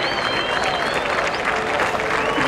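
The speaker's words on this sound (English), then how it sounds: "some applause for the people" A crowd applauds steadily and loudly throughout, with dense clapping, some cheering and possible voices mixed in.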